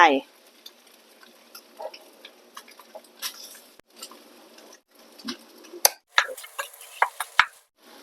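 Rice stir-fried with carrot and egg for Thai-style egg fried rice, a spatula scraping and tapping a pan in uneven strokes, with louder clustered clacks near the end over a faint background sizzle.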